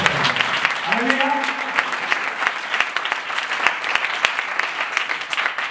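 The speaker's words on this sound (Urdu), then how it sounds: "زوردار تالیاں بجائیے" A church congregation at a pastor's service claps loudly in a sustained round of applause, with sharp individual claps standing out and a voice briefly rising over the crowd.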